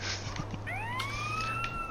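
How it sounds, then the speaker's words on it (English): An ambulance siren wails in GTA San Andreas Definitive Edition, a rising electronic tone that sweeps up and holds, loud and close over a low steady engine drone. "Ambulance incoming, please out of the way"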